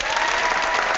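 A burst of applause plays as a sound effect during an online marketing chat, a dense and loud wash of crowd clapping that stays steady for a second.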